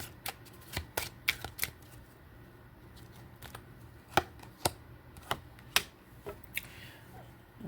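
Tarot cards being shuffled and drawn, a string of sharp riffling snaps and flicks in irregular bursts over a quiet room background, close and clear with no talking.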